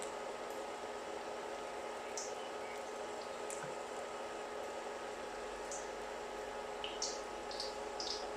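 Shrimp tempura frying in hot oil gives a steady, soft sizzle with scattered small pops and crackles throughout.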